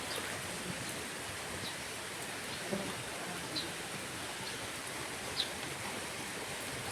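Steady rain falls on garden plants outdoors, a constant dense hiss with a few faint patters standing out, with no talking.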